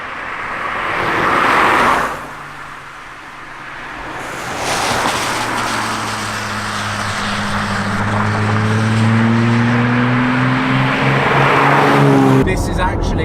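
A Lamborghini driving on a public road, its engine humming and rising in pitch as it accelerates, with steady road and wind roar heard from inside the car and a voice talking over it.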